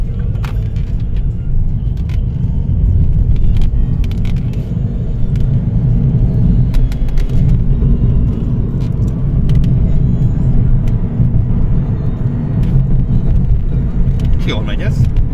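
A Ford Focus 1.4 drives along a road, heard from inside as a steady low rumble of engine and tyre noise throughout, with occasional faint clicks.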